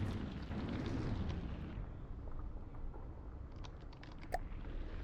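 An ammo store being hit in a video game sets off a dense, rumbling roar of explosions that starts loud and slowly fades, with a few faint crackles and one sharp pop near the end.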